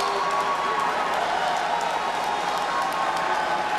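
A mixed-martial-arts arena crowd applauds and cheers right after a submission finish, a dense, steady roar of clapping and voices sustained at even loudness throughout.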